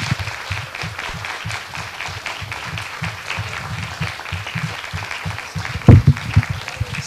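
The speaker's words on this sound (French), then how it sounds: "il mérite de chaleureux applaudissements d'abord" An audience at a tourism and gastronomy talk gives a speaker warm applause, steady dense clapping from a room of people throughout, with a brief louder burst near the end.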